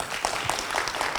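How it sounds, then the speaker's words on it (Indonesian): Brief applause from people seated at tables during a training and workshop event, a dense, steady patter of clapping with no talk, short and moderately loud. "tepuk tangan dong buat Banyuwangi"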